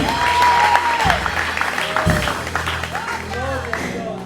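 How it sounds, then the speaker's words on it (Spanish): Congregation applause rises in a church service led by a pastora, clapping mixed under a preacher's voice and singing tones across a few seconds. "Si ese aplauso es para Dios, dáselo mejor"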